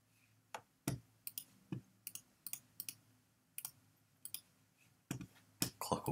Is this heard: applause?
no